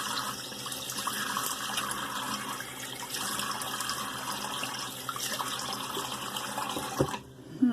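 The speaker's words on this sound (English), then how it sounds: "Alright, let's do some cold water." Cold water runs steadily from a tap into a sink during a straight-razor wet shave, a broad continuous splash that stops abruptly near the end, followed by a brief clatter.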